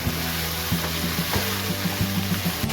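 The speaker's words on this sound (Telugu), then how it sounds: "ఆయిల్లో ఇలా 2-3 నిమిషాలు మగ్గనివ్వాలి." Okra and green chilies frying in oil, a steady low sizzle that carries on without a break, with a few faint stirring clinks close by. No voices.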